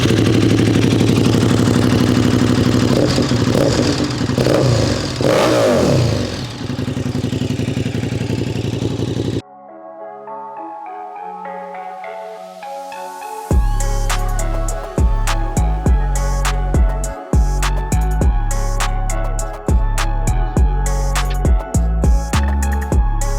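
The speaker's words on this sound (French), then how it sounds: "On va vous faire écouter le bruit caractéristique de KTM, donc comme vous pouvez le voir avec une très belle ligne titane." KTM 1290 Super Duke Evo motorcycle with a titanium exhaust line, its engine heard loud and close: a rough running stretch, a brief quieter gap, then sharp repeated revs and throttle blips with crackling bursts.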